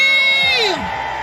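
A crowd gathered to honour Marie of the Fondation Boustadjane lets out a loud whooping cheer, a single rising-then-falling shout rising over the general din of the room.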